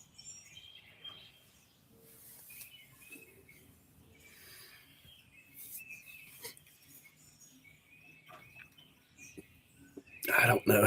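Birds flock into an oak tree outdoors and give faint, scattered chirps and tweets in the distance, while a person talks quietly nearby.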